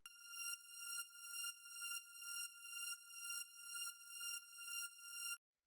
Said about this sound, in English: the first sound we have here is the string